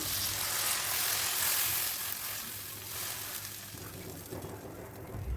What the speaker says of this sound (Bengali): হলুদ মরিচের গুঁড়ি একটু ভালো করে তেলের মধ্যে ভাজি করে নিলাম। এরপর আমি পানি দিয়ে দিলাম।